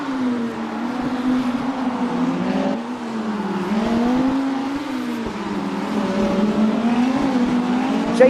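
A Lamborghini Super Trofeo race car runs on the Long Beach street circuit, its engine note rising and falling through gear changes as it drives continuously, loud and close.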